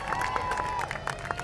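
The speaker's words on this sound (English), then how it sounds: "let's give them a big round of applause" A crowd at an evening tree lighting event applauds and cheers, with scattered claps and voices over a steady roar of clapping, a high whistle-like tone briefly riding on top.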